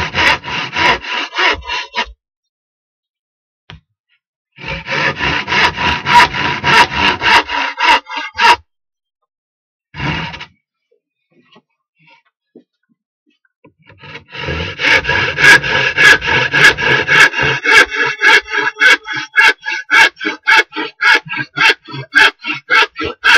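Handsaw cutting through wood for a DIY camping chuckbox, heard in three bursts of close, loud, rhythmic rasping strokes separated by pauses, the last run long and steady.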